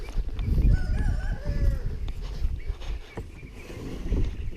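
Chickens clucking nearby with a rooster crowing in the background, outdoors with low rumbling noise beneath.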